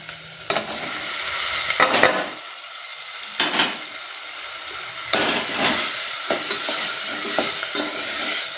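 Tomato and onion sizzle in a pan with ginger, garlic and chilli for a home-cooked Gujarati dish, a steady close frying hiss broken by repeated scraping stirs of a spoon, with no talking.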